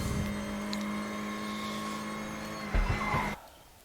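A Lada stock-setup race car in a racing video game accelerates flat out down a straight at Salzburgring, its engine a steady sustained drone that rises slightly before cutting off abruptly near the end.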